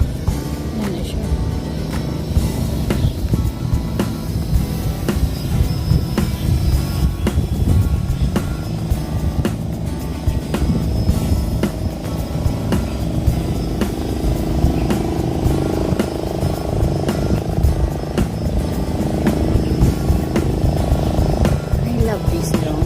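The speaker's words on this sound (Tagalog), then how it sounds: "I love this drone." A DJI Phantom drone flies nearby, its motors and propellers giving a continuous broadband whirring buzz that holds steady throughout, with outdoor background noise mixed in.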